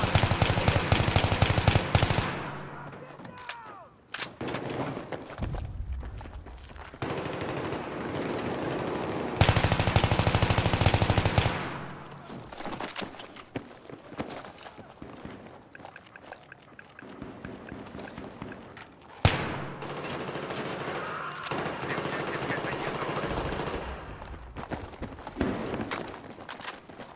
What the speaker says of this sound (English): Enemy machine gun spotted.